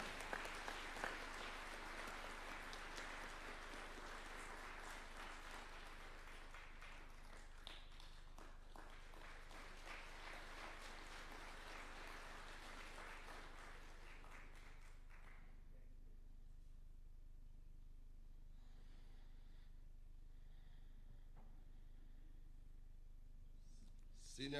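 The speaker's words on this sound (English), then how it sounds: "Another clap would be in order." An audience claps at a Senior Counsel conferment ceremony at State House, Nairobi, moderately loud at first, then thinning into scattered claps and quiet room tone.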